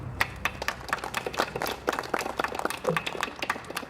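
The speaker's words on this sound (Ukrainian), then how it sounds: "Ну і оплесками присутніх" An audience at an award ceremony for a young beekeepers' tournament claps steadily, with a dense patter of individual hand claps from a modest crowd close by.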